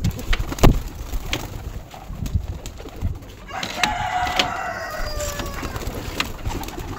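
Pigeons released from their loft, with bird calls and a burst of wing flapping, plus scattered knocks and rustles nearby at moderate loudness.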